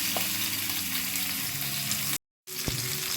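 Bhetki fish pieces coated in salt and turmeric frying in oil, a steady close sizzle with a brief cut to silence and a sharp clink of a utensil afterward, no talk.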